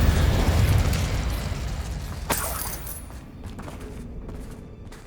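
Fiery bursts from the Incendio spell in the Hogwarts Legacy video game, a loud whooshing explosive blast up front, then a sharp crackling pop midway before the roar fades into quieter rumble.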